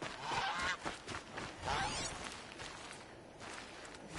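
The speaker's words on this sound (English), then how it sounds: "I have a lot of turkeys here." Turkeys in the video game Horizon Zero Dawn give two bursts of rapid, warbling fowl calls, the first near the start and the second about a second and a half later, with busy game ambience around them and no talking.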